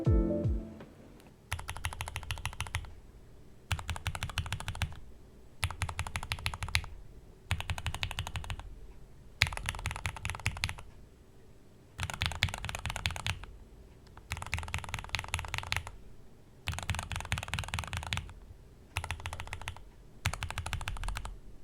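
Rapid clacking of a mechanical keyboard with north- and south-facing switches in about ten steady bursts of typing, each a couple of seconds long, separated by short quiet pauses.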